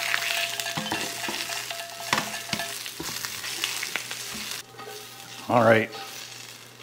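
Onions sizzling and frying in a pan for a slow cooker pot roast, a steady hiss with scattered stirring clatter close by, and someone briefly speaks near the end.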